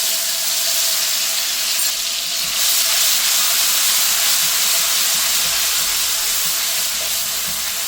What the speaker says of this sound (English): Let's add some ginger and garlic paste.